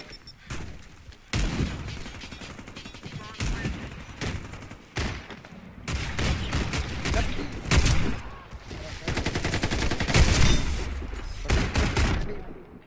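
Rapid bursts of gunfire in the online shooter Warface, loud and close, with dense automatic fire broken by brief pauses and a few thuds.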